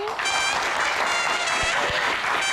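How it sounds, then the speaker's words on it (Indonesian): A studio audience at a Q&A talk show applauds guest Ade Rai, dense sustained clapping filling the whole stretch at an even, loud level. "tepuk tangan sekali lagi"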